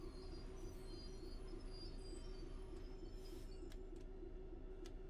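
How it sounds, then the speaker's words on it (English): Train rumbling past on the Medway Valley Line in the Train Sim World 6 video game, a steady low rolling drone with a sustained tonal hum and faint high squeals throughout, loud and close with no talking. "Oh, that train's going to get in front of us."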